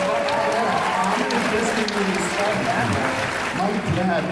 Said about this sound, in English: Yeah, that deserves applause